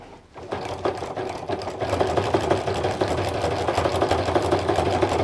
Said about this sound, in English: I'm using the exact same zigzag stitch I used when I attached all of the strip tubes together.